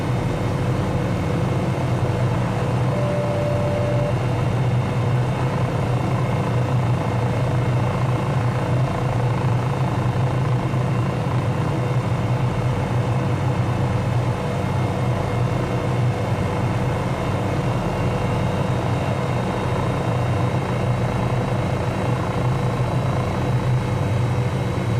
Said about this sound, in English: So this is when the helicopter starts to get all twitchy.